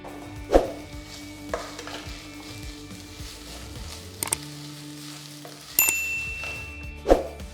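Onions and ginger garlic paste sautéing in a pan for crab curry, a soft steady sizzle with a few louder clinks and scrapes of a spoon against the pan.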